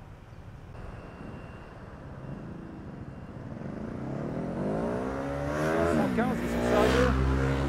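Small Honda scooter engine running and revving on a street in Phuket, Thailand, rising in pitch and growing louder toward the end, with someone talking over the engine.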